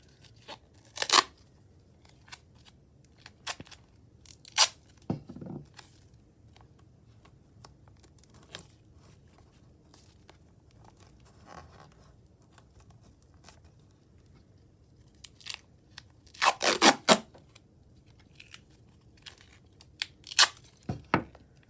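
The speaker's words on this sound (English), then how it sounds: "now we're going to put tape around it too to make sure we really have that sealed" Tape is torn from a roll and wrapped around a bottle in scattered bursts: sharp ripping tears and crinkly handling noises separated by quiet pauses, close up and without talk.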